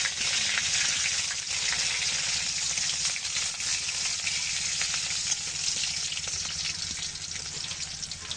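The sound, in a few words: chopped onion added to frying pan, sizzling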